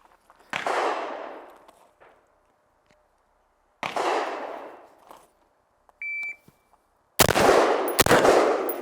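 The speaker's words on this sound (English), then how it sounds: "let's get shooting" Loud sharp gunshots from a rifle and pistol in a timed shooting drill, a few widely spaced reports with ringing decay, a short electronic beep of a shot timer, then a closing burst of rapid shots.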